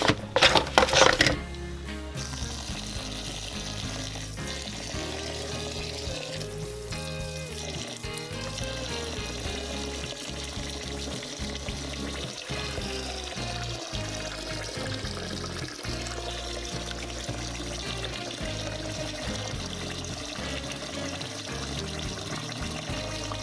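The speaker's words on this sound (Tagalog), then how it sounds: "Tapos ibababad na po natin yan sa tubig" Water is poured onto washed rice in a container for overnight soaking for oven-baked biko, a steady splashing, gurgling stream that runs continuously and close up after a brief louder start.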